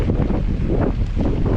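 Heavy wind buffets the microphone while cycling on a windy ride toward San Francisco, making a loud, continuous low roar with gusty swells and no speech.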